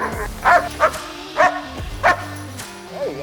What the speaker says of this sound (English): That was some aggressive barking.